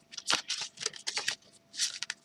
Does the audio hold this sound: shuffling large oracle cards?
yes